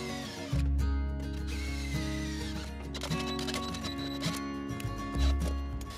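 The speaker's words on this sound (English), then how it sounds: "Drilling thin metal is always a bit of a pain, but I was able to get the job done with high RPMs on the drill." A drill whines at high RPM through the thin metal of an automatic gate control box, pitch wavering and screeching as it bites, with clicks and rattles along the way.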